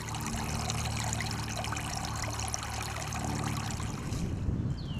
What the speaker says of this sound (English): you've got to let all the water drain out through the hole